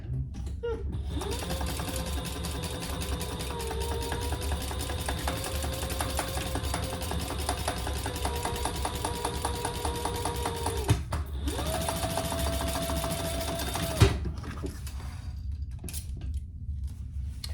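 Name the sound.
sewing machine stitching a bag seam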